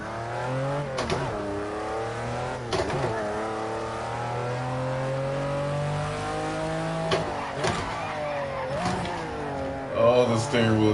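An F1 car engine in a racing video game revs high and holds a sustained, tinny whine that climbs and drops through gear shifts, with brief tire squeal and a faint voice underneath.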